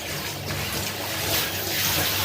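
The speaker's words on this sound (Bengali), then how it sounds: "কড়াইটা ধুয়ে বসিয়ে দেবো" Tap water runs steadily over a karahi wok being washed in a home kitchen, a continuous close splashing rush with no voices.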